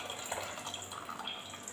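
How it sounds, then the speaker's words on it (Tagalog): Water pours and splashes into a boiling cooking pot, a soft continuous trickle with small gurgles lasting under two seconds, fairly quiet and heard alone. "lagyan ko siya ng tubig."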